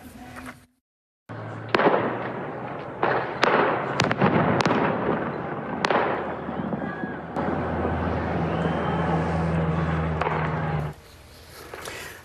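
Repeated sharp cracks and pops of gunfire ring out in irregular bursts over a noisy crowd of protesters in a western Iranian city, echoing at a distance.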